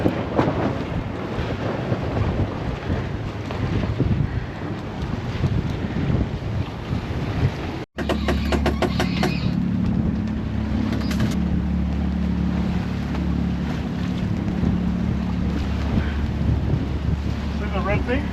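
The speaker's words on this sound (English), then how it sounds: "the wind's pushing us this way" Steady wind roars and buffets the microphone aboard a sailboat crossing open water to Moreton Island, with a brief dropout partway through and low hull and water rumble underneath.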